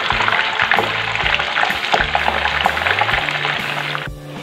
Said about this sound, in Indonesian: Dan sekarang aku mau goreng lagi kulitnya.